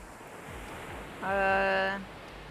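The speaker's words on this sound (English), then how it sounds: "A cold breeze comes in from the ocean, chilly against your skin." Ocean waves and breeze from the video game Boyfriend Dungeon form a steady, soft wash of surf and wind throughout, with a brief sustained tonal chime rising over it midway.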